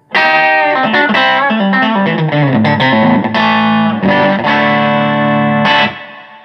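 Hybrid Strat electric guitar played through effects, a loud, distorted run of picked notes and sustained chords with chorus shimmer, close and continuous before cutting off.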